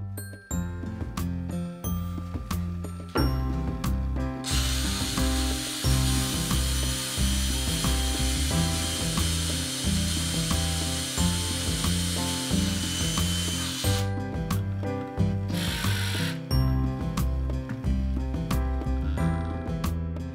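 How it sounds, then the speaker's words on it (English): Power drill boring into cured epoxy and then driving a screw into it, with a sustained loud whir in the middle and shorter bursts of motor and ratcheting at the start and end, alone without talk. "to show you that we can drill smoothly into the cured epoxy and that it will accept the threads of the screw"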